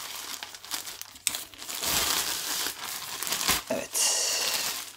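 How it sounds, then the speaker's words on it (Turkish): Plastic bag crinkling and rustling as a Logitech Pro X gaming headset is pulled out of its wrapping, with loud, busy crackles that come in bursts and swell over several seconds, close to the microphone. "Şu kulaklığımızı da nihayetinde poşetinden çıkaralım."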